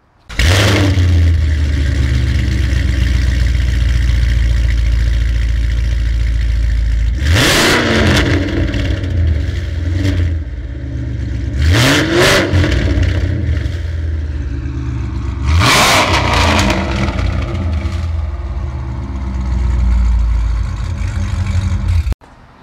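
A tuned 800 hp 2016 Chevy Camaro SS Yenko cold-starts with a loud, close roar that settles into a heavy, rumbling idle, broken by three sharp revving blips before it cuts off abruptly at the end.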